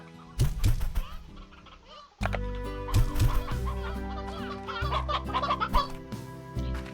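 Painted hens in the Slime Rancher video game cluck in repeated bursts over a layered game music bed, several birds close by and fairly loud, with a sharp swell in activity partway through.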